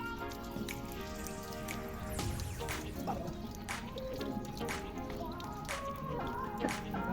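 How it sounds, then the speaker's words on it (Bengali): Water drips and trickles while banana leaves are washed at an outdoor picnic, a soft continuous splashing with scattered droplet hits, fairly faint throughout. "এখন আমরা কলা পাতাগুলো ধুয়ে নিচ্ছি"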